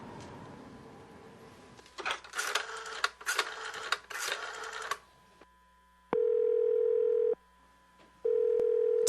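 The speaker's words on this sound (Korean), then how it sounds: "찰리는 링컨의 아파트로 전화를 걸었다" A telephone dial tone sounds in a Korean audiobook of Fitzgerald's Babylon Revisited: after a burst of noisy clatter, two long steady tones ring out clearly with a short gap between them.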